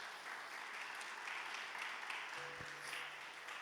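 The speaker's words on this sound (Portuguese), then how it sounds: "Aplauda a Jesus" Congregation applauding in a church service, a steady wash of hand claps filling the room at moderate loudness, with a brief low tone near the end.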